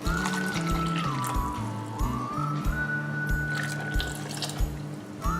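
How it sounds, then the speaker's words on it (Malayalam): Water poured into Kerala-style cucumber moru curry (vellarikka) in a cooker makes a steady, close trickle and splash that runs without a break, with no talking. "ഇനി ഇതിലേക്ക് വെള്ളം ചേർക്കണം."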